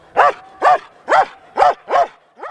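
A police dog in training barks in a steady series of six loud, close barks, evenly spaced about half a second apart, with no talk over them.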